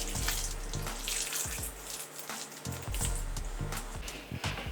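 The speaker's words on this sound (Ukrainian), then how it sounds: "тепер апельсини і лимони заливаємо десь орієнтовно літрою холодної води" About a liter of cold drinking water pours over sliced oranges and lemons for an old Turkish lemonade, a steady close splashing stream with faint gurgles, no talking.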